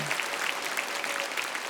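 Congregation applauding in a church, a dense, steady wash of many hands clapping at once, moderately loud and close, with no voices rising above it for the short stretch.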